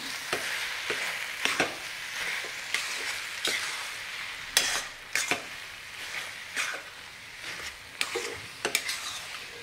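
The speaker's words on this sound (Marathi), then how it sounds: "खवा व्यवस्थित आपण गाजरात मिक्स करून घेऊया" Khoa is stirred into grated carrot halwa in a hot pan, with a steady sizzle under repeated sharp spoon scrapes and clinks against the vessel, close and fairly loud.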